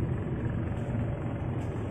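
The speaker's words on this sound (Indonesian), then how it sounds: "Ada truk mau lewat minta jalan" A truck overtaking an intercity bus on a road at night, heard from inside the bus as a steady low engine and road rumble with no distinct passing peak.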